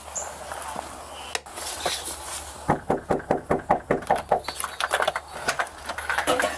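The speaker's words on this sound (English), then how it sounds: "Why are you knocking on my door?" Rapid, sharp knocks on a door, a first lone rap and then a rhythmic run of about fifteen hard knocks that speeds up toward the end, close and loud against quiet background noise.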